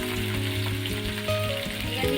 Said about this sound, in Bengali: তো বন্ধুরা দেখতেই পাচ্ছ আলু ভাজা হচ্ছে এখন